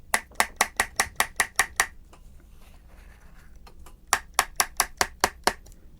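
The drum inside a 1970s TOMY Tomica Driver toy, with its padding removed, is tapped in two quick bursts of about eight rapid, bright, hollow clicks each, separated by a short quiet gap.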